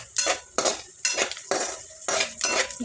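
A spoon scrapes and clinks against a pan as asafoetida is stirred into a bitter gourd dish, about six distinct metallic strokes in an even rhythm, close and clear with no talking.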